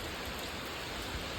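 A rainstorm pours down in a dense, unbroken hiss, fairly quiet and constant for the brief moment.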